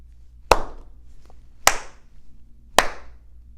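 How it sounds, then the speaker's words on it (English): Three sharp, evenly spaced hand claps ring out alone in a quiet room, each one crisp and close with a short decay. "I need you to clap your hands 3 times."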